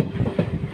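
An Indian Railways train on a Western Ghats mountain bridge, pushed from behind by a locomotive, gives a rumbling, rhythmic clatter of wheels and wagons that is close and steady.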